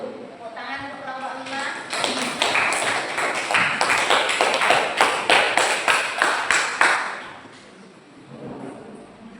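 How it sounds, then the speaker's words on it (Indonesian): Students in a classroom applaud a presenting group, many hands clapping in a steady rhythmic beat for several seconds, close and lively, then fading away. "Tepuk tangan untuk kelompok"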